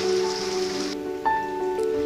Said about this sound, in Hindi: बारिश बाहर जोर से हो रही है।